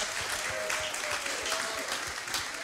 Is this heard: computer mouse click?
no